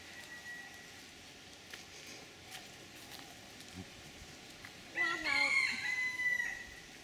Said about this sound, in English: The wild chicken. I can't see it, but I can certainly